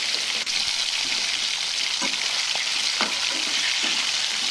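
Whole fish, large fresh tangra, frying in hot oil for a winter-vegetable curry, giving a loud, steady crackling sizzle throughout with a few soft spatula clinks and stirs.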